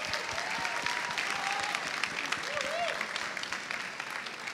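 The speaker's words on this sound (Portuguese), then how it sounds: "Palmas para vocês que estão aqui." Steady audience applause at a Campus Party astrobiology talk in Rondônia, a dense even clapping that holds for several seconds, with a few voices and whoops rising over it.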